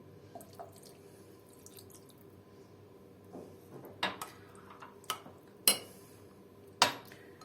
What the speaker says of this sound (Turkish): Salçamı biraz Sulandırıyorum, eritiyorum yağ ve suyun içinde.